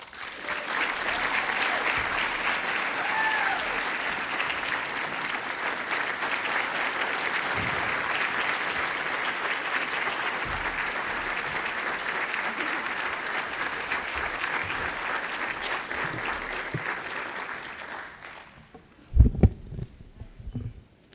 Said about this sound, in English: give a big round of applause for Abby Hall